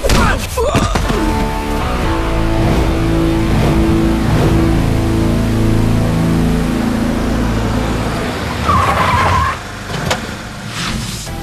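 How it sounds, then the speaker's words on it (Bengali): A car driving: a loud, continuous engine drone with tire noise and a rising squeal-like tone near the end, close and dominant throughout. "শুনছেন? গাড়িটা দাঁড় করান প্লিজ।"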